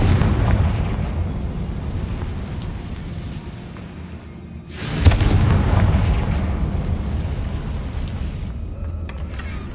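A Confringo blast spell from the Hogwarts Legacy video game goes off as one sudden, loud, booming explosion midway through, over a steady roaring rumble that swells after the burst and slowly fades.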